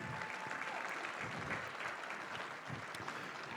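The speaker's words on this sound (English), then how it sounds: "A big round of applause." Audience at a charity gala dinner gives a big round of applause, continuous dense clapping at an even level throughout with no break.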